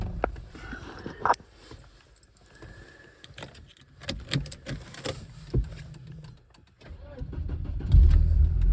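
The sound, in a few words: Volvo 940 Turbo car engine starting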